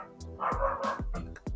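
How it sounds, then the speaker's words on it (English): A dog barks several times in quick succession close by, sharp loud woofs with brief gaps between them and no talking. "Can you hear that? Can you hear the dog?"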